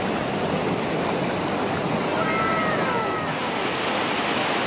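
The Talomo river flowing, a dense, steady rush of water that fills the whole stretch at constant loudness, close by and uninterrupted, with no clear voices over it.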